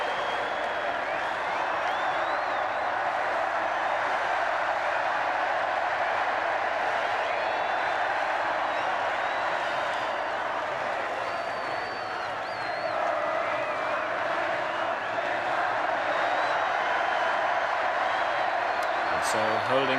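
A huge crowd outside Buckingham Palace cheers and applauds the 1981 royal wedding of Prince Charles and Princess Diana, a dense, steady roar of clapping and shouting that carries on without a break, with faint whoops and whistles rising above it.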